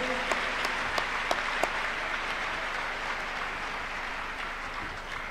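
A church congregation claps at a Tuesday miracle service. A few sharp, distinct claps come early, then it becomes a loud, continuous wash of applause with no talk.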